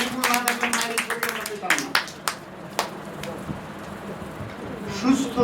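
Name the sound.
audience clapping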